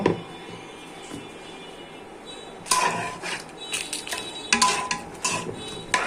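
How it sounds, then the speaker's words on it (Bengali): A metal pan set down on a stove, a few close clanks and scrapes after a quiet stretch, followed by scattered clinks and stirring knocks. "এখন এটা চুলায় দিব।"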